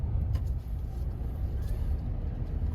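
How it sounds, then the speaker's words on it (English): A taxi drives through the streets of Castries, St Lucia, heard from inside as a steady low engine and road rumble with faint traffic around it, no talk. "So this is driving through the streets of Castries."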